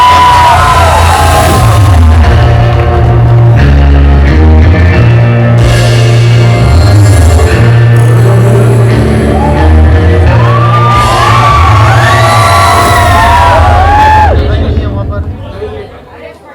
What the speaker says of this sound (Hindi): जोरदार तालियां फरीदा मैम के लिए एक बार.